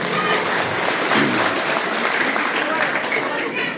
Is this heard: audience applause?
yes